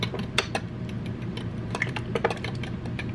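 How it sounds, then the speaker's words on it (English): A whisk beats pancake batter sweetened with homemade brown sugar syrup in a bowl, making quick, uneven metallic clinks and taps against the sides. "Give that a good whisk."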